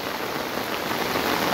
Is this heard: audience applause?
no